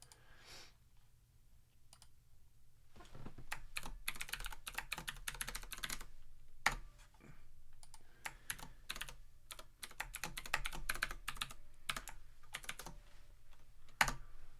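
Keystrokes on a computer keyboard clatter in irregular bursts of quick, crisp clicks, quiet and close, with short pauses between runs of typing and one sharper tap near the end; no talking.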